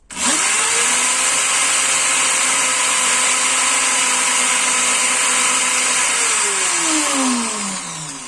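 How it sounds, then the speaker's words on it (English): A steady, loud whirring motor drone with a high buzzing hiss holds for several seconds, from sanding an engine valve with sandpaper, winding down slightly at the end. "try to hold the sanding paper as flat as possible. Now we're switching to 220."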